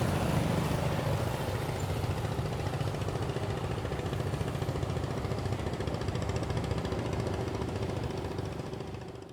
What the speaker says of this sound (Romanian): Trec o mulțime de bărci cu turiști care se întorc de la peșteră